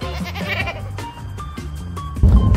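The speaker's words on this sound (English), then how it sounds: "So I love that they actually had a goat in the vehicle." A goat bleats repeatedly inside a vehicle, close and fairly loud, with a steady low vehicle rumble underneath and a louder burst of noise at the end.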